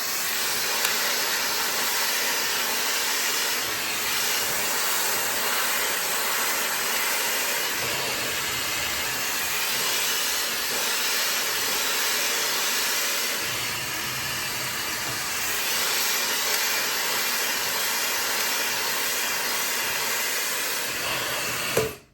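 A high-speed 1400 W hair dryer with a 110K RPM motor blows steadily and close up, a loud, even airy roar with a thin high whine that holds unbroken for about twenty-two seconds before cutting off.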